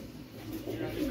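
Madras homer pigeons, a white-eyed pair, coo softly in a short low rumbling phrase that swells toward the end, close by, with a hint of a voice underneath.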